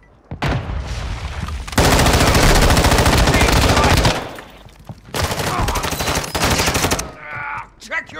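Loud, sustained automatic gunfire from Call of Duty Modern Warfare 2 in a Resurgence match, long bursts of rapid shots with brief pauses between them and a radio-style voice briefly heard.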